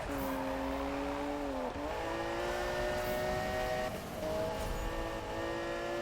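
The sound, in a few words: car racing and drifting in Need for Speed (2015) video game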